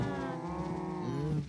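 Cattle moo on a Minecraft cow farm, a long drawn-out lowing call with a rising tail, loud and near with nothing else over it.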